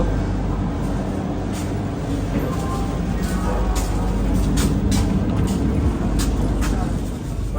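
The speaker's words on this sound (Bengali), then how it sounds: "ট্রেন ছেড়ে দিয়েছে" Inside a passenger train just pulling out on the way to Puri, a loud continuous low rumble and roar of the moving carriage fills the space, with faint clicks and rattles scattered over it.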